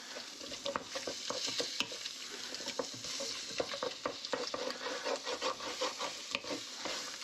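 Eggs and rice frying in oil, with a steady crackling sizzle broken by frequent scraping and stirring clicks from the pan, close and fairly loud, no voices.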